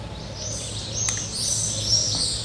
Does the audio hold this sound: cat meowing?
no